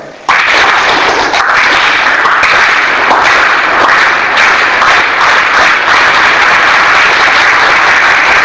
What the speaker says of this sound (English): When I do like this, you just clap on your table.